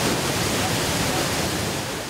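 Simulated waves overtopping a levee in a research test facility: a continuous loud broadband rush of crashing water, steady throughout with no pauses or voices.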